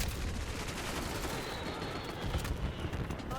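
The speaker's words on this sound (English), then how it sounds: "I'm already getting shot." Dense, continuous gunfire fills the moment in the video game Black Ops 6, a steady loud wash of rapid shots with no pauses.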